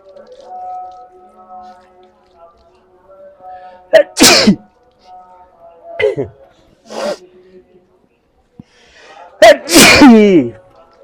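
A man sneezes loudly three or four times in quick bursts after dust gets in his nose while plastering a clay stove at home, with quiet murmuring and light movement between sneezes.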